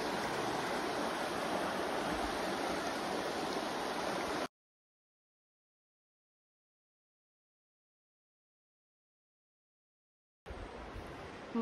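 Pequea Creek in Pequea, Pennsylvania flows with a steady, dense rush of water, heard close and continuous, cutting out completely in the middle before returning.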